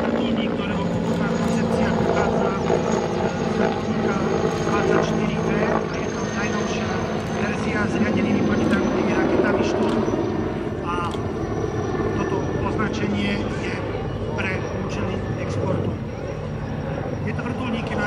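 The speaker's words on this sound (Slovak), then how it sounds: "Tento vrtuľník sa takisto stal aj svetoznámym." A Mil Mi-35 Hind military helicopter of the Czech Air Force at the SIAF 2017 air show roars steadily and loudly throughout, its rotor drone continuous with a commentator talking over it.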